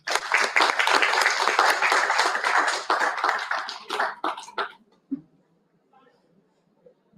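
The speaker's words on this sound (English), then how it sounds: "Please give a round of applause for Dr." An audience at a sustainability conference applauds a panelist, with dense clapping for about four seconds that thins into scattered claps and fades to near silence.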